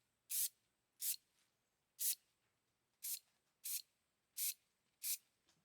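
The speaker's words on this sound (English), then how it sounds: "This is my first time using this Bear spray paint. It's black matte finish." Seven short bursts of black matte spray paint hiss onto a bathroom faucet, each about a third of a second, evenly spaced with brief pauses between them, close and fairly quiet with no talking.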